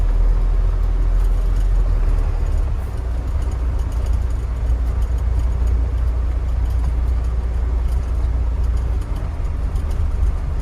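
Truck driving on a rough high-desert country road in Arizona, a steady loud low engine and tire rumble that runs throughout with little change and no talk.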